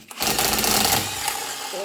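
An Exbom 48V cordless drill bores into metal with a loud, buzzing, rattling whine across the whole short burst. The sound is close and continuous, easing slightly toward the end.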